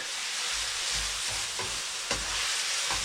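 Chicken sizzles and crackles steadily in a hot pan, with occasional soft stirring scrapes, close up and continuous.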